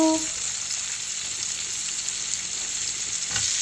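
Tomato hits hot oil in a pan while cooking a hilsa fish dish, giving a steady, dense sizzle and frying hiss that carries on without a break, with a faint stir near the end.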